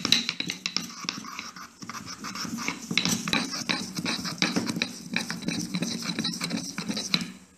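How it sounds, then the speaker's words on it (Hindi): Crushed Aak (Calotropis) leaves being ground into a paste, with close, continuous scraping and rasping strokes in an irregular rhythm, steady for several seconds with no talking. "इसको तोड़कर अच्छे से बारीक कर लीजिए। और इसको अच्छे से पीस लीजिए।"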